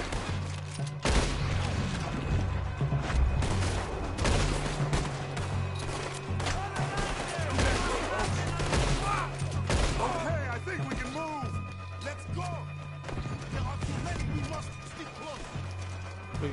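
Gunfire in Red Dead Redemption 2 on the island of Guarma cracks repeatedly in a dense, uneven volley, shots overlapping with impacts and crashes while a player talks over the battle.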